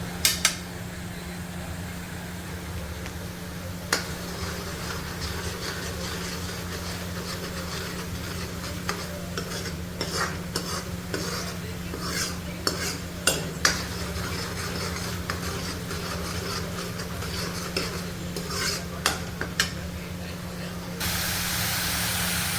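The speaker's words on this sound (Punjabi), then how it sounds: "ਲਸਣ ਆਪਣਾ ਚੰਗੀ ਤਰ੍ਹਾਂ ਭੁੰਨਿਆ ਗਿਆ" Garlic paste and tomatoes fry in a pan for dum aloo, a steady close sizzling hiss running throughout, dotted with light clicks and scrapes of a spoon stirring.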